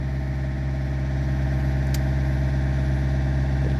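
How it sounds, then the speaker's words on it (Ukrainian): An Opel Vectra C engine idles steadily nearby with a deep, even hum and a faint turbocharger whine layered over the low rumble. "Чуємо, як працює турбінка, де наддув."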